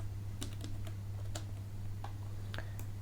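Keystrokes on a computer keyboard while writing JavaScript code come in short irregular bursts of clicks, fairly faint, over a steady low hum.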